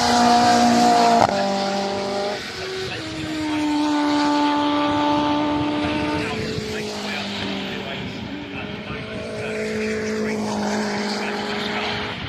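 Race cars lapping the Brands Hatch circuit during a Mini festival, with engines rising and falling in pitch as the cars pass, a loud whine that fades and swells again while someone speaks underneath.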